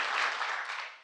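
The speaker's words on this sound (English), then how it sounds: "One round of applause again for today's recipients of the Presidential Citizens Medal" Audience applause after a presidential speech on the anniversary of January 6 honoring Presidential Citizens Medal recipients, a brief, fairly faint burst of clapping that fades out.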